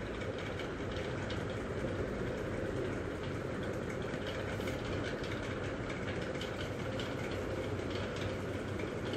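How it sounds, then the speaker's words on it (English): A steady, rumbling train roar with a constant broadband rush throughout, like riding inside a moving rail car. "Train is an another mode of transport"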